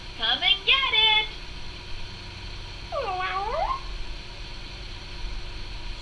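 A cartoon cat meows twice in a PS1 Bob the Builder video game, a short cluster of rising mews followed a moment later by a longer drawn-out meow over a steady game background hum.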